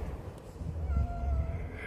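A cat gives a drawn-out, whiny meow close by, low and wavering, over a muffled background.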